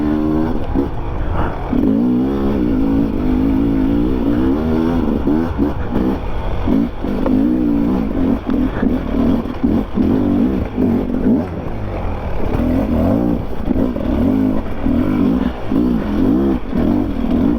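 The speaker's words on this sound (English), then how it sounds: "Oh yes, we are riding bikes today." Beta and Sherco enduro motorcycles with carburetors riding on ice, their engines droning and revving steadily and loudly throughout, a continuous close buzz with shifting pitch and no speech.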